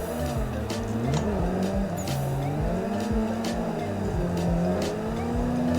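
A car in a tandem drift, its engine revving and wavering loudly while the tires squeal continuously, heard close and steady throughout.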